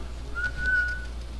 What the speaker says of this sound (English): Did I just whistle in the wrong way?